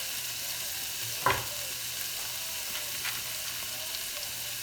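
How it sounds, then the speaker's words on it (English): Sausage with peppers and onions frying in a pan, a steady low sizzle running throughout with a brief louder clatter near the start as food goes in. "I'm going to put that in with the sausage. And a 1/4 of the bag of the peppers and the onions."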